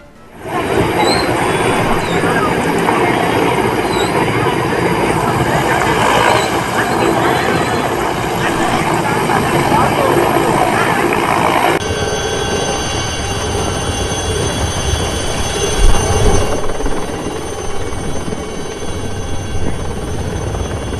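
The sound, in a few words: military navy helicopters dropping food packets over flood areas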